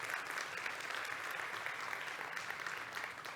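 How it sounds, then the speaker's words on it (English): An audience at the BuildSG LEAD Summit 2022 applauds, a dense, steady wash of many hands clapping together that holds at an even level throughout with no voices over it. "So a round of applause for yourselves as well."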